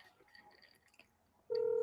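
A single steady telephone dial tone starts abruptly partway through and holds loud to the end, after a stretch of faint, quiet background noise.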